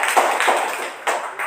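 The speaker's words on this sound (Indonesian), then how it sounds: "Oke, baik, tepuk tangan." Several quick claps in a classroom, a short burst of a few sharp slaps followed by another brief round.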